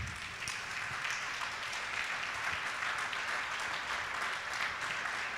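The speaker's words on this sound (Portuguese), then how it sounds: "Vamos aplaudir o Senhor Jesus." Applause from a church congregation praising Jesus during a sermon, a steady dense wash of clapping that fills the whole stretch with no talk over it.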